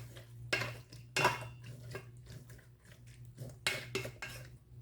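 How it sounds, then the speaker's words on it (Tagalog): Chicken with soy sauce being stirred in a pan, with a utensil scraping and clanking against the metal in several loud, irregular strokes over a low background hum. "Haluin natin."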